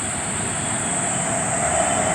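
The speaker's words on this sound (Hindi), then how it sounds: "हर 10 मिनट में शायद मेट्रो निकलती है" Metro train passing close to a house, a continuous steady rumble with a faint high whine, fairly loud and unbroken, with no voices.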